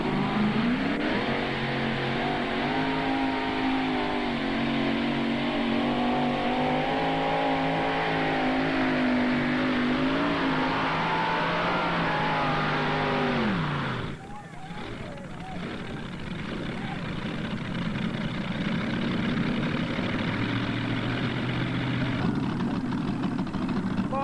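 A modified pulling tractor at a 1995 Turkey Day pull in Imlay City, Michigan roars loudly while hauling the sled, its engine pitch rising and wavering, dropping sharply midway, then surging on with a steady heavy drone and announcer talk.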